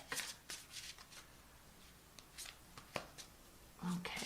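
A tarot card deck being shuffled by hand, a quick series of soft riffling and slapping bursts, faint and close, with a voice speaking between them.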